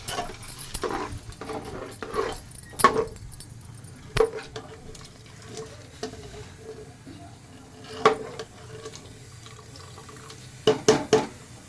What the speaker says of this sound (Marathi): यातच मी गरम पाणी टाकते